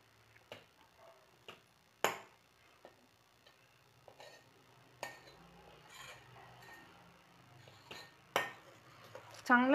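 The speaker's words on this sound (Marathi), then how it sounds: "आता ह्याला चांगलं हलवू आपण" Basundi tea with crushed ginger is stirred in a pot: sparse, faint clinks and taps of a utensil against metal, scattered irregularly over quiet kitchen background.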